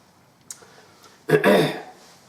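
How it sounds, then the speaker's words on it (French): A single throaty cough, close and fairly loud, preceded by a faint click. "Excusez-moi, je ne sais pas ce que j'ai à tousser."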